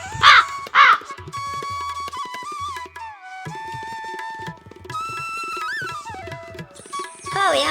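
Crows cawing loudly and close in a farm village, harsh repeated caws in bursts at the start and end, set against a melodic background tone.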